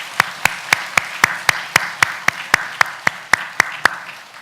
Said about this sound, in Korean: 이 시간 함께하여 주시는 우리 하나님 앞에 감사와 영광의 박수를 함께 올려드리도록 하겠습니다.